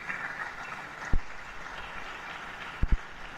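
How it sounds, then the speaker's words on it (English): Graduating cadets at a Maritime Academy of Nigeria graduation ceremony clap for themselves; the applause is a faint, steady, distant patter that lasts throughout, with a few low thumps near the end. "Please, can you clap for yourselves?"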